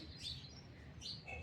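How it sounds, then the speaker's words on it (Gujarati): Birds chirp in the open sky on a foggy early morning, two short, faint bursts of high twittering heard from a distance over a low background hum. "પક્ષી ઉડે છે અત્યારે આકાશમાં."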